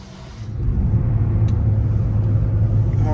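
A Bentley car being driven on the road, heard from the cabin as a steady low engine rumble and road noise that swells early and then holds smooth and even.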